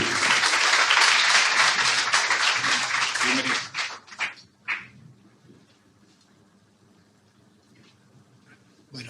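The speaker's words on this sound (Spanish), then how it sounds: "vamos a recibir con un fuerte aplauso al rector de la Universidad CLAE, Andrés Lalán." Loud, dense applause fills a hall at the opening ceremony of a business forum as an audience welcomes a university rector, then fades into scattered claps and quiet.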